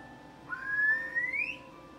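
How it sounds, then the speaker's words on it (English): A single finger whistle rises in a smooth upward glide, held for about a second, fairly clear and close over a quiet background, in an animated children's show. "You use your fingers to whistle?"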